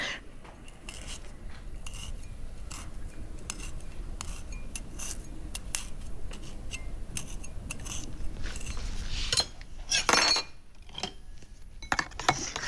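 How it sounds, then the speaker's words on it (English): A knife pierces a leg of lamb several times, giving soft, wet cuts and taps from utensils close by, steady and fairly quiet with no voices, and a brief louder clatter near the end. "Want to make a few incisions so that the paste infuses the meat."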